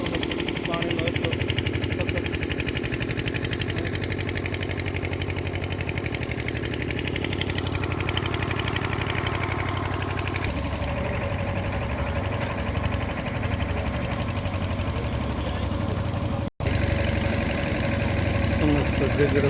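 Three water pump engines run together at a flooded road crossing in Dhrangadhra, a loud, steady mechanical drone with a knocking throb that continues without a break.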